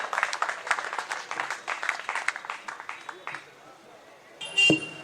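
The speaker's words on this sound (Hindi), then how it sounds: "आपकी तालियों के बीच में आवाज देता हूं भाई मनोव्रत वाजपेयी।" Audience applause at a Hindi poetry gathering, scattered claps that thin out and fade, ending with a brief sharp knock.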